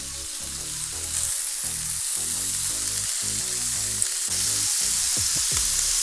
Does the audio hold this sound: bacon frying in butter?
yes